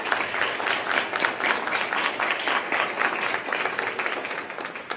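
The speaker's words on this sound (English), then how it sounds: "Another big round of applause for those folks." A school board meeting audience gives moderately loud, steady applause, many hands clapping continuously for several seconds with no talking over it.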